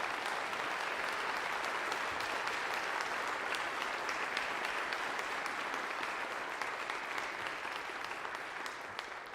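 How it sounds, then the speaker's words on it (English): A concert audience at First United Methodist church in Greeley applauds brass players during a Christmas brass concert, the sustained clapping sounding distant and soft, fading slightly toward the end. "round of applause for our wonderful brass players"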